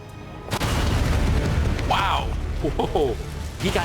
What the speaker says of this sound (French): L'explosion se produit à ses pieds.